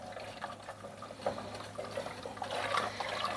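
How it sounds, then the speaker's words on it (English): Candy cane cough syrup with ginger simmering in a pot gives off a soft, steady liquid bubbling and trickling, faint and continuous with no voices. "We're just gonna let it simmer."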